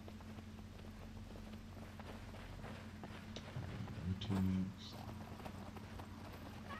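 Steady rhythmic hoofbeats of a horse clip-clopping along in the video game Skyrim, with someone talking over them and a brief louder burst near the end.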